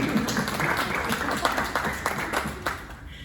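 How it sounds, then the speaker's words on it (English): Audience clapping at a district community meeting for a legislative aide, a steady patter of applause that runs for a few seconds and thins out toward the end, with some voices mixed in. "she deserves all the applause for keeping my office together"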